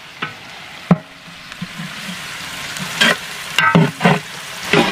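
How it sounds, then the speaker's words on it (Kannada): Onions frying in a pan for chicken biryani, a low sizzle broken by sharp stirring scrapes and clatters that grow busier toward the end. "ಈರುಳ್ಳಿ ಕೆಂಪು ಹಣ್ಣವರೆಗೂ ಫ್ರೈ ಮಾಡ್ಕೊತೀನಿ"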